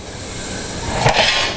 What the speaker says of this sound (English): When I put a lot of batter, sometimes it really just poofs out, so I gotta be careful with the steam.